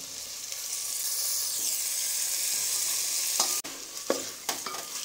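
Masala and chopped carrots, beans and green peas sauté in a pan for moong dal kichadi, a steady close sizzle with scraping stirs and several sharp spoon knocks near the end.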